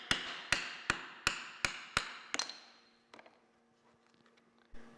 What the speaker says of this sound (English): Now take a plastic hammer and you have to really use a bit of force